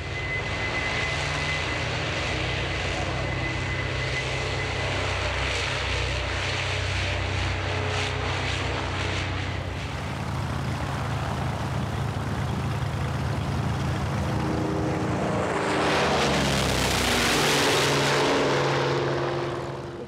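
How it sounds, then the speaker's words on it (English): A Grumman F7F Tigercat propeller aircraft roars continuously and loud at an air show, its engine drone shifting in pitch and swelling into a rushing peak near the end as it passes. "I'm here today flying the F7F Tigercat"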